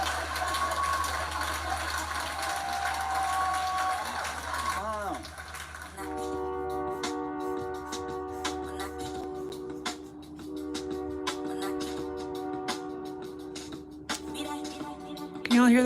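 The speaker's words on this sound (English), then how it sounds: "Can y'all hear that fucking train?" Distant train rolling past with long, layered horn blasts sounding repeatedly in the second half, over a steady low rumble, with someone talking intermittently nearby.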